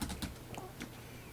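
A few quiet keyboard keystrokes tap at an uneven pace over a soft background hum.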